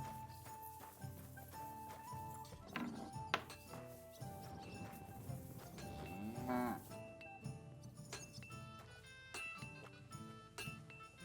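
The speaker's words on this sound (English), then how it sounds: "Cow." A cow moos in a video game: several drawn-out lowing calls rise and fall over a busy game soundscape with hoof clip-clops and scattered clicks, no voices.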